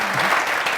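Audience applause at a cultural event in Bobo Dioulasso, a dense steady wash of clapping throughout the short burst with no talk over it.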